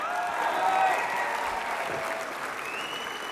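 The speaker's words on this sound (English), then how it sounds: "Please, let's give Kevin another round of applause." A convention audience applauding at a general session, a dense sustained clatter of many hands that holds steady, then eases slightly toward the end.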